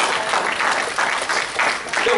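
A church congregation claps during a sermon, a full, steady round of applause with rhythmic swells, close and loud throughout.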